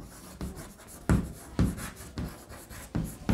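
A pen scratches and taps on paper while maths working is written out, with short strokes in a steady rhythm, close and moderately loud in a quiet room.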